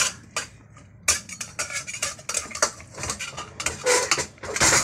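Gourd and shrimp are stir-fried in a pan, with a spatula scraping and clattering in quick, uneven bursts, close and fairly loud, and no voices.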